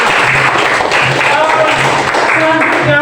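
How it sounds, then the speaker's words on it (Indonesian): Classroom of students clapping in applause for a classmate's answer, a dense steady patter close by with voices mixed in throughout. "Oke, tepuk tangan untuk jawaban."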